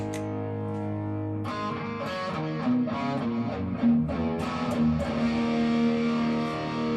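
A Boss DD2 digital delay pedal runs on a distorted electric guitar, sustained overdriven chords and notes trailing into crisp repeating echoes, loud and steady with no talk.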